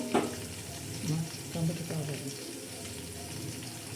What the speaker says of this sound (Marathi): हे बघा मस्तपैकी असा छान असा तडका बसत आहे